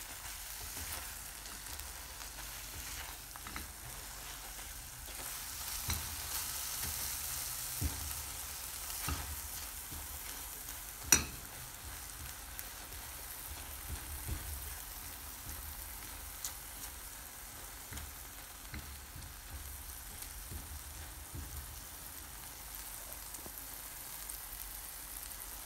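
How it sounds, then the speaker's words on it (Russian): A steady, quiet sizzle of a cheese omelette mixture frying in a pan, with soft scraping and occasional clicks of constant stirring, no voices. "постоянно эту смесь перемешивать, чтобы у нас получилась максимально однородная масса"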